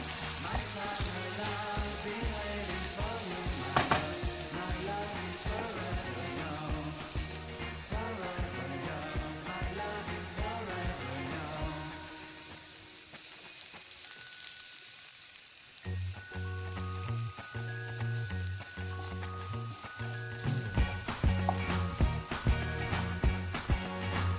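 Rice and orzo sautéing in butter for a Turkish pilaf: a steady, dense sizzle with frequent stirring scrapes and clicks, loud throughout and dipping briefly midway.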